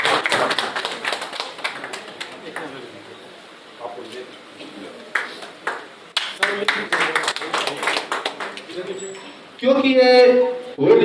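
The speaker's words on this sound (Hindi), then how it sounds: "जोरदार ताली हो जाए।" An audience applauds at a talent search competition in Ghazipur, with scattered, uneven clapping that comes in bursts and pauses, and a brief other sound near the end.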